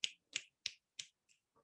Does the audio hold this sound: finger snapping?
yes